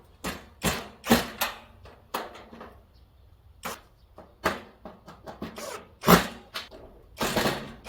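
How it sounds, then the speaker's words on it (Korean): A wrench and an electric drill work bolts and nuts on a zinc raised garden bed frame, a series of sharp close metallic clicks and short ratcheting bursts in an irregular rhythm. "조립이 다 되면 동봉되어 있던 렌치와 전동 드릴을 이용해서 볼트너트를 조여줍니다"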